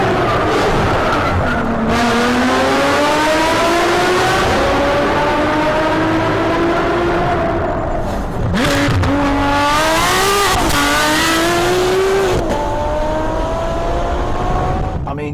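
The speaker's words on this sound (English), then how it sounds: "How do you describe a 6-litre V12 that produces 661 horsepower and sounds like this?" A Ferrari 599 GTO's 6-litre, 661-horsepower V12 revs hard and loud up close, its howl climbing and falling through repeated throttle blips and gear changes with no letup.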